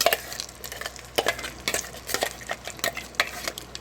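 Cumin seeds tempering in a spoonful of hot oil, heard as a faint crackle under repeated metallic scraping and stirring clatter of a utensil against the pan, with no talk.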